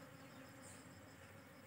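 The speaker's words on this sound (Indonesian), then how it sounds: "sudah dikerumuni oleh lebah" A faint, steady buzzing of bees around flowering corn plants, continuous and without pauses.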